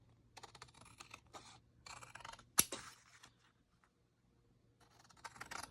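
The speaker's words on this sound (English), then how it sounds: "go ahead and cut this the way I want it" Close, quiet snips of scissors trimming craft paper to size for a handmade journal purse, in short separated bursts with one sharp click and a silent gap before a final cut.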